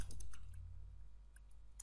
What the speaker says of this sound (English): I'm just simply typing that